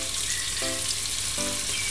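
Oxtail fries in a pan on a medium-low stove, a dense, constant close sizzle with two brief tonal squeaks from the pan or utensil partway through, and no talking.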